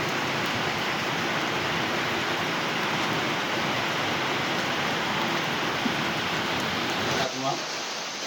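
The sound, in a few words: heavy rain falling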